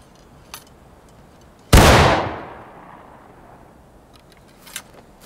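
A single loud gunshot from a gun in the video game War of Rights, fired during skirmish training, cracks sharply and rolls off in a long fading echo against a quiet background.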